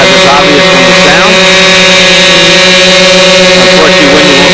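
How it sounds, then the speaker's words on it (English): Both engines of a model B-25 bomber drone together, a loud, steady engine roar with strong sustained tones that fills the whole stretch without a break. "Both engines now running, as is obvious from the sound."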